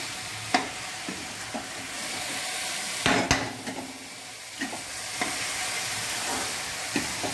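Carrot halwa with sugar mixed in is stirred and cooked in a pan, giving a steady sizzle with a spoon scraping the pan bottom every second or so, plus a few sharper knocks.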